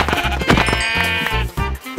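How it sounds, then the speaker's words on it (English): Sheep bleat repeatedly in Minecraft on a mountain, several overlapping calls with a harmonic, slightly nasal tone over a busy background, fairly loud and close. "there's a lot of sheep on this mountain, which is good"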